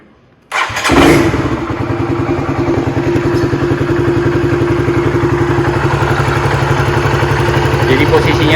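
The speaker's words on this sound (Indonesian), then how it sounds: "Terusan kita coba starter ya. Ini RPM-nya udah saya kecilin." A Honda CBR150R motorcycle fitted with a manual idle speed control cranks and fires up loudly nearby, then settles into a steady low-RPM idle with an even putter.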